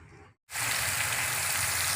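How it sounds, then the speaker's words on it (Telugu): Onion pieces drop into a hot pan on the stove and burst into a loud, steady sizzle of frying that runs on without a break after a short silence. "ఉల్లిపాయ ముక్కలు వేపేసుకుందాం"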